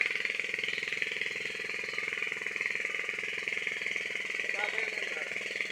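A steady mechanical engine drone from an irrigation water pump engine in a corn field runs throughout at constant volume, with faint voices underneath.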